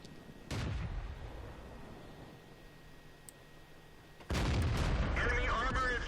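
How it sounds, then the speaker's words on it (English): Two heavy tank cannon shots in World of Tanks, the ARL V39 tank destroyer firing, each a loud boom with a rumbling tail, the second bigger and followed by game crackle and debris noise. "Critical hit. Got one shot in."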